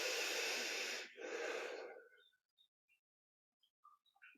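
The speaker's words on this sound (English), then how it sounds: "Breathing in this way." Slow, deep breaths during a yoga practice, a long audible exhale, a brief pause, then another drawn-out breath, close and soft, followed by near silence with faint birdsong.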